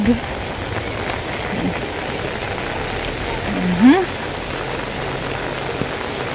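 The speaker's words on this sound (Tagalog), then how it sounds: "Talagang malakas din po yung ulan." Heavy rain pours steadily, a dense continuous hiss of drops hitting surfaces nearby, with a brief voice-like sound partway through and no strong wind.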